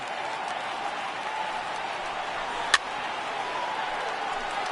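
A baseball stadium crowd in a PS4 video game applauding steadily, a continuous even clatter of clapping at moderate distance, broken by one sharp short crack near the middle.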